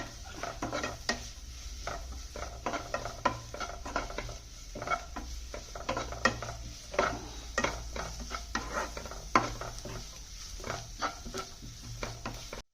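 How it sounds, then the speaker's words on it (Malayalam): Onions being sautéed in a pan for mushroom masala, with a spatula scraping and clinking against the metal in a steady, fairly quiet stirring rhythm over a low background hum. "നല്ല രീതിയിൽ വഴറ്റിക്കൊണ്ടിരിക്കണം."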